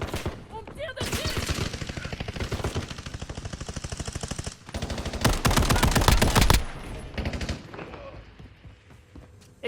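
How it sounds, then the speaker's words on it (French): Rapid automatic gunfire from the battle royale shooter Warzone rattles in long, loud bursts, with a quieter stretch of steady firing before a heavy, dense volley. A few single shots follow before it trails off. "On me tire dessus."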